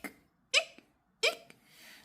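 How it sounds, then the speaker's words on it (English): Three sharp hiccups in an animated Peppa Pig children's story, each short, loud and close, spaced evenly and heard alone without talk. "George's hiccup won't stop, not even when he goes outside to play."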